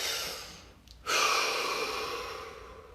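One deep breath, close and audible: a long airy exhale tapers off, a short pause follows, then a sharp, strong inhale rises and slowly fades.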